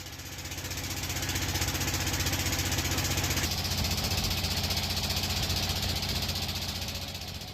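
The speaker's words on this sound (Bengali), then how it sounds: "আমাদের নৌকাও ইঞ্জিনের বিকট শব্দ তুলতে তুলতে ঘাটে পৌঁছে যায়" A boat's engine runs loudly on a river crossing in the rain near Sylhet, a steady close-up drone with dense mechanical rattle that holds unbroken throughout, slightly shifting in tone midway.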